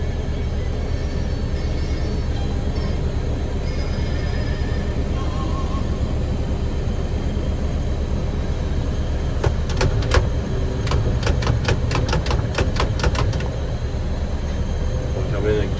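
A wood chipper powered by a Fastrac tractor runs as a loud, steady engine drone with a constant low rumble throughout, and a burst of rapid clattering near the end.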